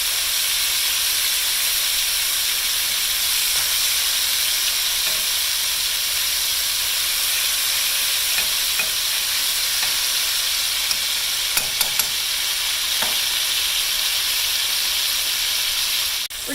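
Swiss steak seasoned with Weber steak seasoning browns in a frying pan, giving a steady, loud sizzle and hiss that runs throughout, with a few brief clicks near the end.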